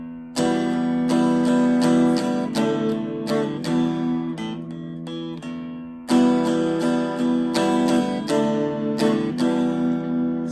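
Strummed chords on a Yamaha Pacifica PAC112VM electric guitar with the top pickup selected ring out in two bright, sustained phrases, each with several rhythmic strums, loud and close with no talking.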